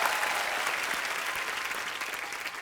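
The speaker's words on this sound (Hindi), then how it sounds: "जोरदार तालियां हो जाएंगी प्लीज" A studio audience at a television comedy show applauds steadily, a dense wash of clapping from many hands that holds at an even level for a few seconds without any talk over it.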